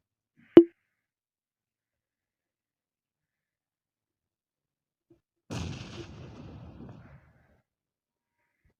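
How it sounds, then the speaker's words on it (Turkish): A grenade in PUBG Mobile: a sharp single pop or thud near the start, then several seconds of silence before a muffled, crackling explosion that rumbles briefly and fades. "Şöyle bomba atalım belki açılır."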